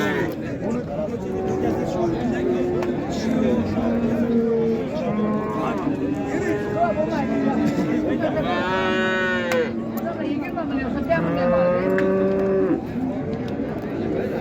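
Dairy cows and calves low repeatedly at a busy cattle market, several moos rising over constant crowd chatter, with people talking nearby throughout.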